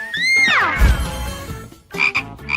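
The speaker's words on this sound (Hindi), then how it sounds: "उफ, ये तो मेंढक था।" A frog croaks in a couple of short, close, fairly loud bursts with a brief pause between them, heard on its own without any talk.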